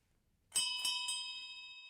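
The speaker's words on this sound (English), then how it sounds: "I hear the bell for last call" A bell rings for last call, three quick bright metallic dings in a row, clear and alone, ringing on and slowly fading after the strikes.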